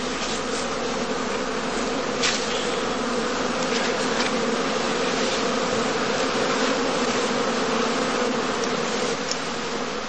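Honey bees at a heathland skep apiary during heather blossom, a dense, steady buzzing hum of many bees close by, unbroken for the whole stretch with no voices.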